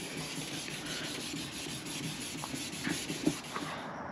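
Steady wet-sand rubbing on a car headlight lens, a continuous gritty scrubbing close to the microphone with a few small knocks near the end and no voices.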